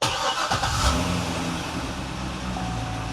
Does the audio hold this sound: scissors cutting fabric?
no